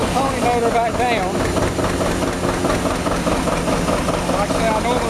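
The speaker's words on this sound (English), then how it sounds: "I normally let the pony motor idle for a few seconds" A John Deere model 80 two-cylinder diesel tractor's small gasoline pony starting motor idling steadily with a rapid, even knock, loud and close, with someone talking over it.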